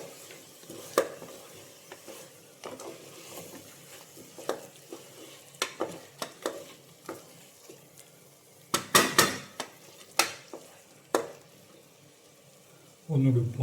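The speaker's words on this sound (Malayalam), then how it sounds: "വീണ്ടും ഇളക്കുക." Spoon scraping and clinking against a pressure cooker pot while mushroom biryani with mint and coriander is stirred, irregular knocks and scrapes over a soft sizzle, with one louder flurry of metal clatter.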